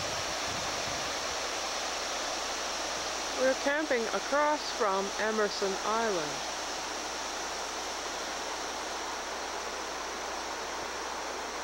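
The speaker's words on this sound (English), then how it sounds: "we have camped next to a river which is coming down from a lake" A river flowing down from a nearby lake runs beside a campsite near Pond Inlet, a steady broad rushing wash throughout, with someone briefly speaking over it.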